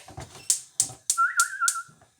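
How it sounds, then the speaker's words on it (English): Several people whistle in turn during a casual whistling contest in a home kitchen: short sharp whistle bursts repeat at a steady rhythm, then one sustained warbling whistle runs underneath them. The sound is close and clear, with no talk. "we started a whistling competition here"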